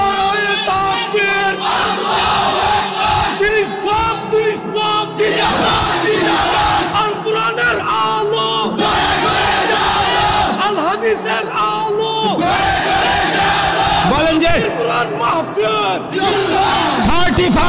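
A large crowd at an Islamic religious sermon roars a loud, sustained collective chant in answer to a preacher's takbir call, voices rising and falling together across the whole stretch and filling the space with dense shouting.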